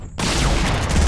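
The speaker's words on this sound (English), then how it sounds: "Going to pelt him down with the scar." SCAR assault rifle fire in Fortnite during an esports match, a loud sustained burst of rapid shots beginning abruptly after a brief quiet moment.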